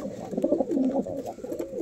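Kalanka pigeons coo in soft, throaty bursts, a pair close by with repeated rolling calls over a light background.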